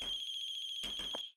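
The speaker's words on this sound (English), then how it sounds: "There's a cell phone ringing" A cell phone rings outside in a video game, a bright electronic ringtone pulsing rapidly and steadily at moderate volume, then cutting off abruptly.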